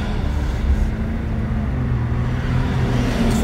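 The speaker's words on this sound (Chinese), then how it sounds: "大家试试加速" A 2017 Jeep Wrangler Sahara with a 3.73 axle ratio under way, its engine giving a steady, fairly loud low drone with road noise and no distinct rise in revs.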